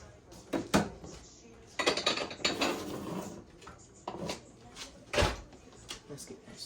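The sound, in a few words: stirring butter into rice in a pot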